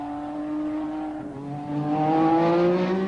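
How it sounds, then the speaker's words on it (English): A Cosworth turbo Formula One car at full race boost spins its wheels on a wet track at Castle Donington in winter, its engine note loud, harsh and rising steadily as it revs. "Cosworth have produced an engine with full race boost, and the vicious power induces wheel spin on the wet surface"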